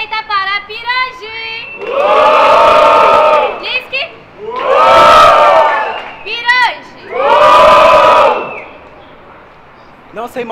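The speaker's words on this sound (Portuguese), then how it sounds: "começou a barulho à minha esquerda para Nisk" Crowd at a Brazilian street rap battle roars in three long, loud bursts of cheering and shouting, separated by short gaps where a host's voice is heard.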